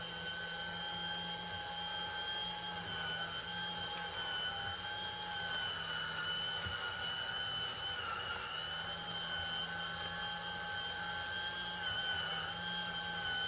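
Steady, loud electric juicer whirring through small cut-up pieces of orange in a kitchen, a continuous motor drone with sustained tonal whine that holds level throughout without pause.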